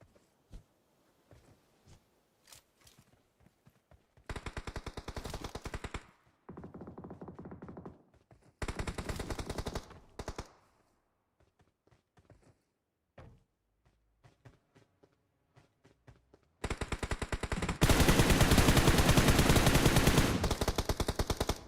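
Bursts of automatic gunfire in a PUBG Mobile match, coming in separate loud volleys with quiet gaps between them and a long sustained burst near the end.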